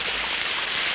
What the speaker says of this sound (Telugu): ఏమిటా వర్షం చూడు ఎంత అందంగా కురుస్తుందో